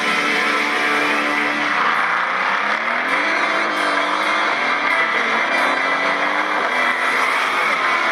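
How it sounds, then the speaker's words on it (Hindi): Racing cars roar around a track, one overtaking another, with continuous loud engine whine shifting in pitch as they pass, plus faint tire squeal. "तू कौड़ी की खटारा हमें ओवरटेक कर गई।"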